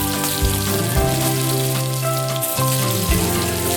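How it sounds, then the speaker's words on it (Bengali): Fish pieces dropped one by one into hot mustard oil in a kadai over a medium flame give a steady, close crackling sizzle that carries on under soft background music. "তেল গরম হলে মাছের পিসগুলো একটা একটা করে ছেড়ে দাও"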